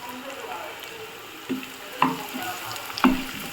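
Chopped onion and garlic fry in a pan for a country chicken curry, a steady low sizzle with a few sharp spatula scrapes and stirs cutting in close by.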